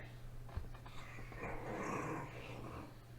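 A creature growls in a tabletop role-playing session: a low, rumbling dog-like growl that swells and lingers for about three seconds, fairly quiet, with no talking over it.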